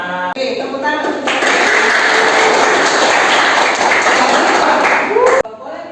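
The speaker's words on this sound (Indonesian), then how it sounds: "Oke, tepuk tangan." A classroom of students breaks into loud applause, a dense burst of clapping that runs for about four seconds before stopping abruptly, with brief speech just before it starts.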